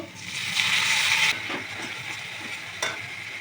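Spice paste hits hot oil and fried chopped onions with whole garam masala while cooking ghugni, bursting into a loud close sizzle that fades into quieter stirring and scraping, then a final clack.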